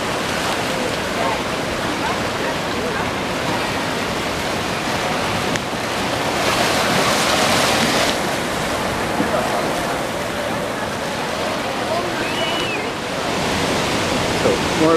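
Surf washes steadily onto Shelly Beach, a popular scuba and snorkelling spot seen from a trail lookout, forming a continuous broadband roar that swells slightly midway, with wind mixed in.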